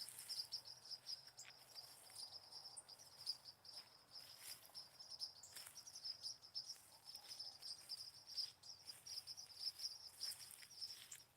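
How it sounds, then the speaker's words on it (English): Insects chirp steadily in trees along a woodland walk, a faint high continuous trilling with scattered brief calls that could be birds, no talking. "Can you hear the insects in the trees?"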